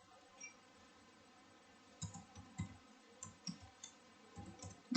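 Someone types a router IP address on a computer keyboard: quiet at first, then a run of sharp, close key clicks in an uneven rhythm from about the two-second mark.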